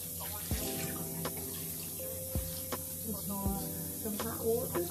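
Hot water runs steadily from a bathroom tap into a sink, a close continuous hiss and splash with a few clinks and a voice in the background.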